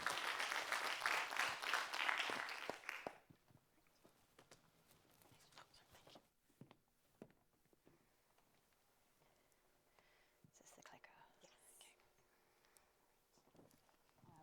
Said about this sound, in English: Let's give Kaz another round of applause